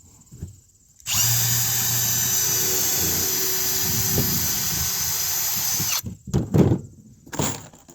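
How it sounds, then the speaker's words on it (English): A power drill drives screws into a wooden roof block on a Peterson bluebird house, one sustained whining run of about five seconds, followed by a few brief clicks and knocks. "now I'm going to put some screws into it"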